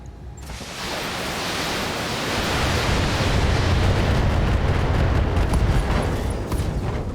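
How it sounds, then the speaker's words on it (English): An ammo explosion in the BattleTech video game: a loud, sustained roaring rumble that swells and holds steady for several seconds before easing slightly. "Ooh, ammo explosion."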